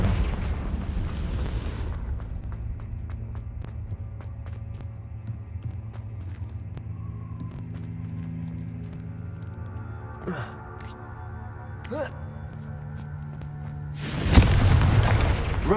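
A Confringo blasting spell in Hogwarts Legacy lets off sharp bursts and booming impacts over a low game rumble, with a loud swell of noise at the end.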